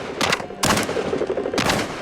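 Three loud, close shotgun blasts during an outdoor pheasant hunt, the first two in quick succession and the third after a short pause, each with a brief booming tail.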